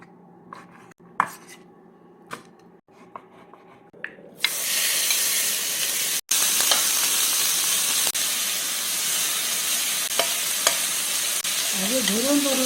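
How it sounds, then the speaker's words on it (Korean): Pork neck meat frying in oil in a home kitchen, a loud steady sizzle that bursts in after a few soft clinks and taps, continuing with occasional stirring scrapes. "아주 노릇노릇하게 튀기듯이 줘야 돼"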